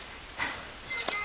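Phone keypad beeps sound in The Last of Us video game: two short, faint tones spaced under a second apart over quiet background hiss.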